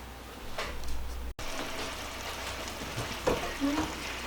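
Hawaiian meatballs frying in a pan give a soft, steady sizzle at low level throughout, with a few faint clinks and a brief bump partway through.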